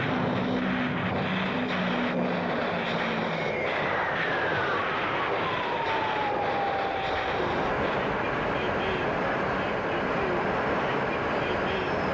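A Grumman A-6 Intruder attack aircraft roars past in a continuous, loud jet rush. A whining engine tone sweeps downward in pitch as it passes, then the broad roar carries on.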